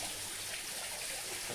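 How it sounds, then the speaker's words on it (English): An indoor rock waterfall flows with a constant broadband rush of falling water, steady and fairly close, with no talking. "indoor private waterfall"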